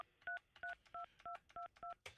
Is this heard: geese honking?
no